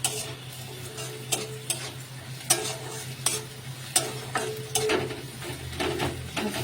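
Garlic is stir-fried in a pan, giving a soft steady sizzle broken by irregular scraping and clinking of a utensil against the pan, with no one talking.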